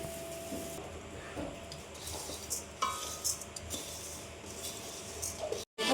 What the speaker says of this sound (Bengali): চিড়েটা আমার ভাজা হয়ে গেছে,